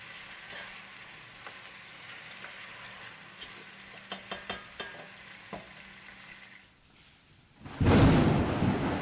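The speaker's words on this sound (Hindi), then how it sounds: "अब हमने इसके साथ भुनाई करनी है" Chicken curry being fried and roasted in a pan gives a soft, low sizzle with scattered stirring clicks, ending in a sudden loud burst of sizzle near the end.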